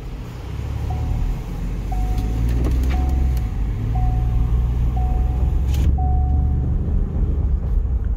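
A large Ford Expedition MAX pulls away, its engine a steady low rumble close by, while a repeating electronic beep chimes about once per second in the background.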